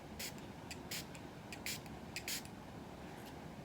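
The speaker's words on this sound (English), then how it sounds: "So spray some water." Several short hissing bursts from a spray bottle, spaced irregularly over a quiet background.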